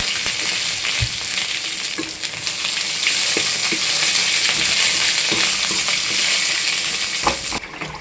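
Onions frying in hot oil with mustard seeds and curry leaves, a loud, steady close sizzle running throughout with occasional stirring clicks, no voices.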